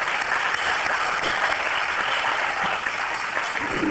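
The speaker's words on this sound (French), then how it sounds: "Je vous demande d'applaudir bien fort Madame Algon." Steady, sustained applause from an audience at a junior representatives' assembly, a dense even wash of many hands clapping with no break, fairly close and moderately loud.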